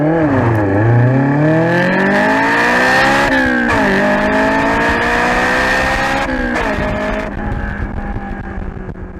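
A Honda S2000 sports car revs and accelerates close by during a warm-up drive, its engine note rising and falling in smooth sweeps with a faint tire squeal, loud and continuous with no talking.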